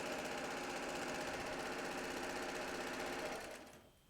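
Sewing machine stitching a quilt line for a log cabin block at a short 1.1 to 1.5 stitch length, a steady rapid mechanical chatter running continuously up close before winding down at the end.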